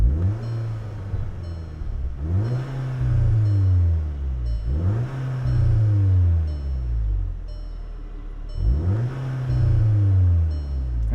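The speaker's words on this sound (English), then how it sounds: "Go ahead and give it a couple revs." Stock-exhaust VW Mk6 Golf GTI with DSG revved while parked: three or four loud throttle blips rise and fall in a steady rhythm, close up, each dropping back to a rumbling idle between pulls.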